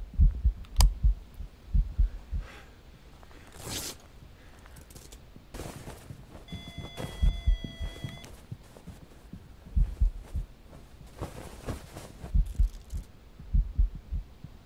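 Heartbeat effect in the VR ghost-hunting game Phasmophobia, a repeated low thumping pulse that throbs through quiet background noise, with brief clicks and thuds around it.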